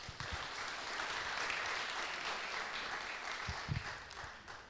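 An audience at a pitch competition event applauds at a moderate distance, with a steady wash of clapping that continues for several seconds.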